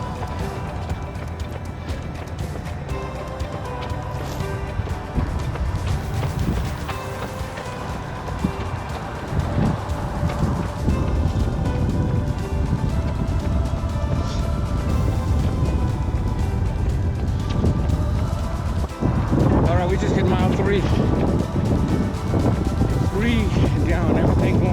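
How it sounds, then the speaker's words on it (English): A strong wind buffets the microphone during an early-morning outdoor run, a steady low roar and rumble that lasts about twenty-five seconds and builds near the end, with muffled talk mixed in at times. "Sun's coming up, but it is windy."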